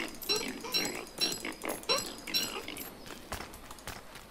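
Pig creature in the game Don't Starve Hamlet grunting in a quick run of short, rough snorts mixed with light game sound effects, fairly close and clear, with no talk over it.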